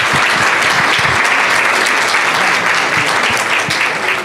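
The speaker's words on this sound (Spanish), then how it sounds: "¿por qué no recibimos a Olguita con un fuerte aplauso?" Loud, dense applause from a seated audience welcoming a speaker to a workshop, steady and close, with no voices breaking through the clapping.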